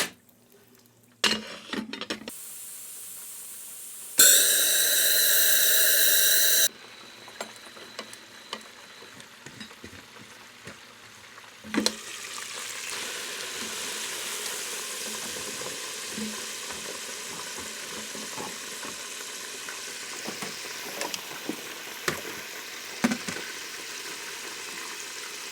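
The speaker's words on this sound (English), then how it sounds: "Out of the breading and into the pressure fryer." Breaded KFC-style chicken dropping into a hot pressure fryer, a loud burst of hissing oil followed by steady, dense sizzling with occasional clanks of metal and utensils.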